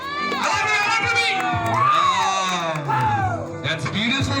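Children and a crowd cheer and shout at a school ethnic cultural day show, the excited voices rising and falling over a loud announcer talking through a sound system.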